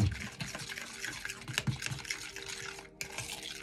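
An egg is whisked briskly in a bowl while mixing an avocado hair mask, with quick wet clicking and sloshing strokes in a steady rhythm, close up.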